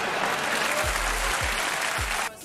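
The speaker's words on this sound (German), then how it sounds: "Ja, klatsch ruhig mal." Crowd applause in a GTA video game, a continuous wash of clapping at steady volume, with a few low thuds underneath, running for a couple of seconds before cutting off.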